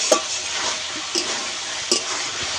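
Spice paste for a fish curry is stir-fried in a pan. Soft continuous sizzling runs throughout, with three brief scraping stirs spread across it. No one speaks.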